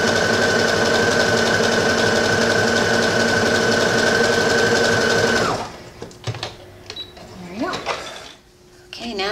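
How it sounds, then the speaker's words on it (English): A sewing machine runs a stretch stitch along a tank top's bust area, a loud, steady high-speed whir lasting several seconds before stopping, followed by someone talking over the quieter fabric handling. "This is just a quick stitch down here. Using a stretch stitch so I don't have to reverse it."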